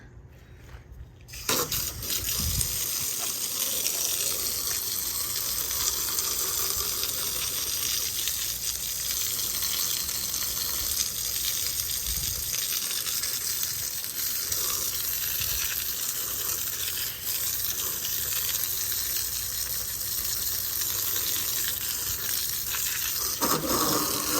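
A pressure-washer spray blasts wheel cleaner off a car tire and rim, a loud continuous hissing rush of water hitting rubber and metal that starts abruptly after a brief quiet moment and runs steadily without speech.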